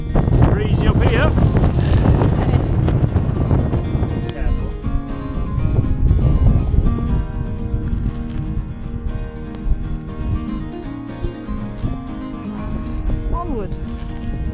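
Strong wind buffets the microphone on the Kinder Scout moorland edge, a loud continuous roaring gust noise that eases slightly later, with someone talking over it.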